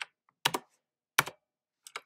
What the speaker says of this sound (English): so I'll type hi